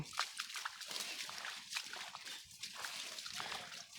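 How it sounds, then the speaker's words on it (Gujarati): Irrigation water runs along a channel into a millet field, a steady close trickling and splashing with no pauses. "બાજરામાં પાણી જાય છે"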